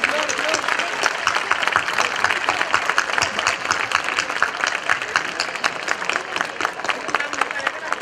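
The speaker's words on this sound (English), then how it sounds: "Let us give them a huge round of applause, parents." An audience of parents at a school event claps steadily throughout, a dense even patter of many hands with a voice or two murmuring beneath.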